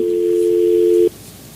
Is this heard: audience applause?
no